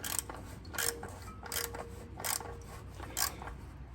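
Plastic oil filter housing cap on a 2019 Toyota Highlander 3.5L V6 being hand-tightened, giving four evenly spaced, close scraping clicks with a faint creak between them, and no talking.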